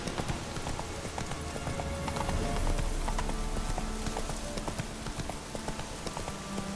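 Roach the horse trotting in The Witcher 3, a quiet steady run of hoof clip-clops on the ground, rhythmic and moderately close, with faint background ambience.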